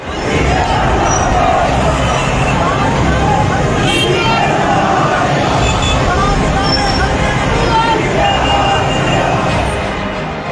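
A dense, steady hubbub of a large street crowd of protesters in Pakistan, many voices merging into continuous loud babble with traffic-like rumble underneath throughout.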